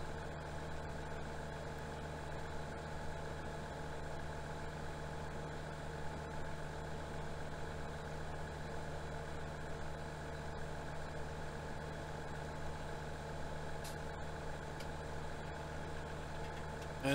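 A New Holland sprayer engine idles in Farming Simulator 17, giving a steady, even drone with a constant low hum and no change in pitch, fairly quiet and uninterrupted throughout.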